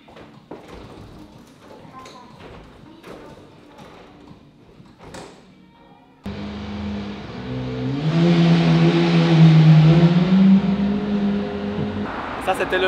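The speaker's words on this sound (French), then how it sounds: "Ça, c'était le bruit d'une Lamborghini." A Lamborghini on a Roppongi street in Tokyo roars past, its engine swelling from a low rumble into a loud, sustained revving growl that overwhelms the earlier quieter street sounds before fading slightly.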